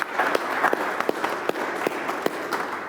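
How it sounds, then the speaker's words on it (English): Conference audience at an African food and nutrition security event applauds, a steady mid-level wash of clapping with a few sharper individual claps standing out. "So let's give them a clap"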